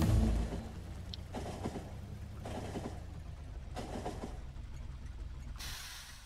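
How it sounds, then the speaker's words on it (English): A train in the video game Factorio rumbles past in a steady, moderately loud wash with faint rhythmic pulses and hiss, no talking over it. "Don't get crushed by the train"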